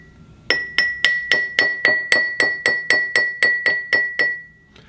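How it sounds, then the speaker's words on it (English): A drinking glass is tapped about thirteen times in a steady, even rhythm, each strike giving a bright, clear ring that hangs briefly before the next. Close, fairly loud and alone, with no voices. "So when I tap the glass,"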